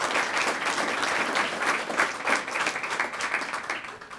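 A school audience applauds Murrieta High School students at a December gathering, steady dense clapping from a crowd for about four seconds.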